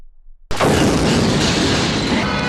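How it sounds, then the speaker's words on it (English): A bomb goes off in Belfast city centre with a sudden sharp crack, then a dense, roaring wash of noise that holds steady and loud without fading. "Bombs in the city centre, so much disruption, so many explosions"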